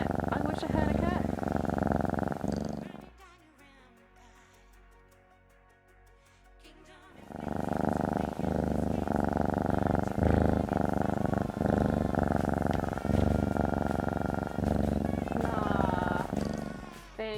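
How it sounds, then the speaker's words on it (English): A cat purrs in a steady, rumbling loop, dipping quieter for a few seconds midway before resuming loud and continuous with a voice talking at times over it. "we'll start with purrs"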